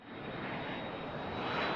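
An airplane in flight in an AI-generated video: a steady, dense engine roar holds evenly throughout, loud and continuous with no voices.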